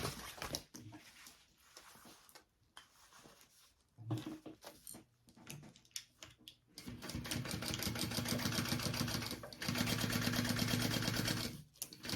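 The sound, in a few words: sewing machine sewing tote bag lining seam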